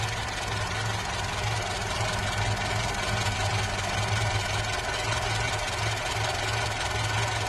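A 1985 Polski Fiat 125p with its FSO 1500 engine idling after twenty years in a shed, running steadily with a slight roughness, a continuous close, loud mechanical drone with no talk.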